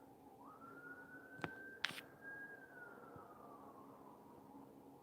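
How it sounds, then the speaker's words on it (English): A distant police siren wails in a long rising and falling tone, faint against quiet background with a couple of sharp clicks. "now I hear sirens"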